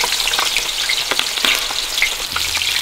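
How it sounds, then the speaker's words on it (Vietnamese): Fish balls fry in hot, well-used oil in a pan, giving a steady, close crackling sizzle with scattered pops and no voices. "bây giờ bà sẽ bỏ vào chảo, bà chiên, bà rán nhá"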